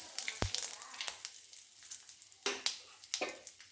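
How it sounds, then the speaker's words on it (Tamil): Mustard seeds, urad dal and asafoetida sizzle in sesame oil in a kadai, a steady faint crackle broken by a few sharp pops and spatters, with no talking. "இப்போ நான் கடாயில் நல்லெண்ணெய் விட்டுருக்கேன்"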